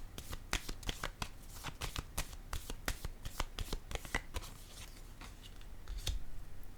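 A deck of tarot cards is shuffled close by, a rapid series of crisp riffling flutters and snaps in quick bursts, quiet overall with no talking.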